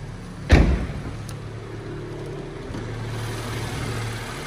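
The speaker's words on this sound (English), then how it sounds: "So there we've got the straight 6 twin power turbo." A BMW 435i M Sport with a straight-six twin-turbo engine idles with a low, steady hum. Early on there is a single sharp thump, like a bonnet or door closing.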